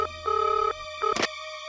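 Electronic phone ringtone sounds in two short, steady tonal bursts, the second cut off by a brief rustle, in a quiet room of a TV crime drama.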